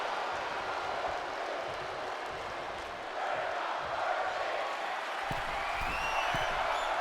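Crowd noise rises and falls in a video game wrestling arena during an NXT show, a fairly quiet, steady chant-like roar of many voices with a few sharper thumps near the end.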